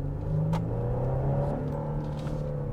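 A luxury SUV's engine, the same unit used in the Stinger, revs steadily and close up with a smooth, deep drone and a brief rise in pitch, with no voices over it.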